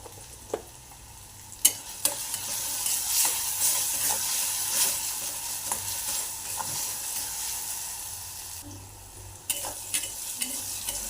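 Onion-garlic masala fries and is stirred in a pan while making moong dal kanda, with a steady loud sizzle and a few sharp spatula scrapes and clanks against the metal throughout.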